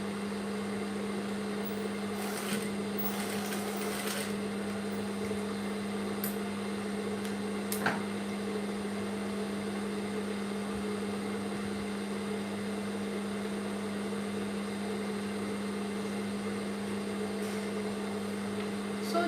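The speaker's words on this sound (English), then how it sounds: "So I'm just going to stitch it down a bit, then sew it all around." A sewing machine stitches trouser fabric with a steady, unbroken motor hum throughout, with a few faint clicks and rustles near the start and midway.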